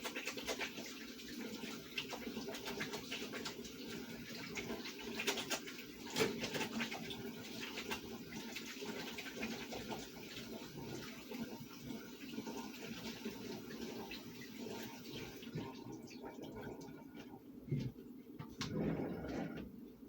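Sliced scrapple fries on a preheated griddle with a continuous soft crackling sizzle, close and steady throughout, easing slightly near the end.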